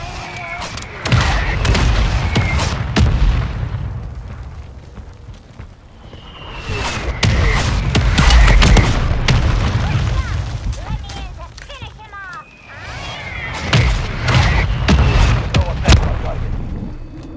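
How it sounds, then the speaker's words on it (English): Mortar strike explosions in Call of Duty MW3 on Ashika Island: repeated deep booms and rumbling blasts arrive in several waves, with crackling debris and gunfire between them. "Copy that. Mortar strike inbound now."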